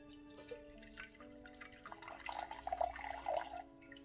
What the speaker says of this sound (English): So I put water in here in this cover pot, and I let it drink from the bottom.